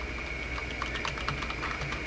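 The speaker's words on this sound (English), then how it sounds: "I am typing like randomly" Keys clatter on a computer keyboard attached to an HP slim desktop, quick light taps in uneven bursts over a steady background hum, no speech.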